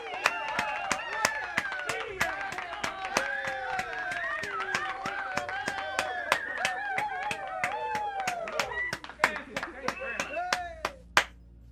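Steady, rhythmic hand claps keep a quick beat while a voice talks over them throughout, applause at the close of a Minion Masters online tournament.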